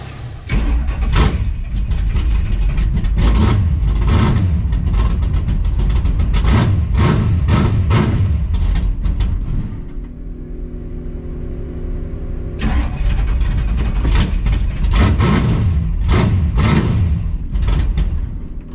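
A car engine cranking and running roughly on a first test drive while flooding with fuel, loud and close with uneven sputtering bursts, a brief drop to a lower steady hum midway, then rough running again.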